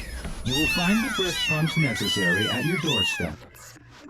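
Several cats meow and caterwaul loudly in overlapping, wavering cries close by, with a person speaking among them.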